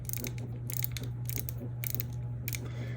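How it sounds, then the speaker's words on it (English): An antique Yankee ratcheting screwdriver, around 100 years old and restored, twisted by hand, giving bursts of quick metallic ratchet clicks at a steady rhythm over a constant low hum, close and fairly quiet. "it's actually a ratcheting screwdriver"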